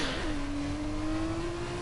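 A race car engine in a racing game at the French GP holds a high, steady whine after a quick rev at the start, loud and close with no voices.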